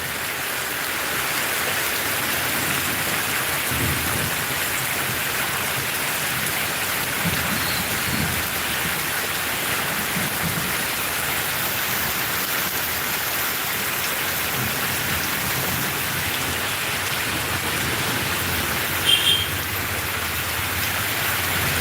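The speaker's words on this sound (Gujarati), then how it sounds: "જો એ વીજળી કડાકા થયા" Steady, heavy rain pours down with several deep rolls of thunder rumbling through it, no voices present.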